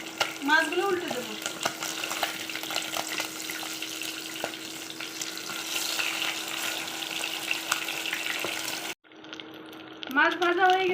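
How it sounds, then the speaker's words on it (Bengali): Koi fish fry in hot oil after being turned in the pan, giving a steady loud sizzle that runs for several seconds with small clinks, cut off briefly near the end, with a voice talking at the start and finish. "মাছগুলো উল্টে দেব।"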